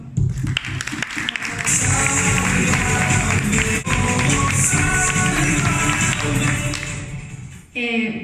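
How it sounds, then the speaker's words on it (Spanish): A television studio audience applauds in a steady burst of clapping lasting several seconds, with speech and background sound mixed underneath before it cuts off near the end. "así que un aplauso"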